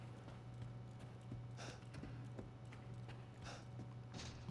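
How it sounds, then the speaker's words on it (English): Heavy, irregular stomping footsteps from Lady Dimitrescu in the video game Resident Evil Village, a series of dull thuds over a steady low hum and ambient background, moderately loud and spaced unevenly. "So you can hear her stomping."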